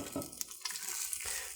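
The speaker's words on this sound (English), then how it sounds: "You'll hear the sizzle." Rice sizzling in hot oil in a pan for veggie shrimp fried rice, a faint crackle with soft stirring scrapes and small bursts.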